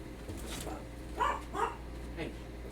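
A dog named Dipper lets out a couple of brief, close barks indoors over a steady low hum, the yaps spaced about half a second apart.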